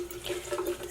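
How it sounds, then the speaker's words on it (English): A tap runs a thin stream of water into a sink while tie dye is being mixed, a brief, steady splashing trickle at moderate volume with no voices. "Turn on a little water."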